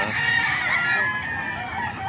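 Roosters crow together at a chicken market in Bukawi on a rainy morning, a dense, continuous chorus of overlapping crows and clucks filling a noisy open space.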